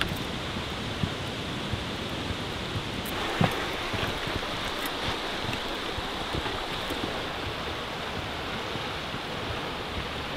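Steady rain falling in an Alaskan outdoor setting, a dense, even hiss of broadband noise that continues unbroken throughout, with a few faint clicks and knocks.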